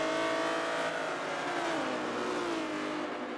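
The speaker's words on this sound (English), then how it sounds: "XTS comes roaring by." The Air Canada XTS race car in Forza roars past with a sustained, loud engine whine that shifts down in pitch as it goes by.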